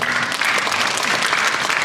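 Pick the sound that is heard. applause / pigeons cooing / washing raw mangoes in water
applause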